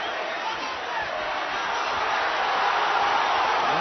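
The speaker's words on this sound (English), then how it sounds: "Every assault from Flintoff is roared on by this Manchester crowd." A Manchester crowd roars steadily through a boxing match between Flintoff and Dawson, a dense, continuous wall of cheering that swells slightly toward the end, with a commentator's voice running over it.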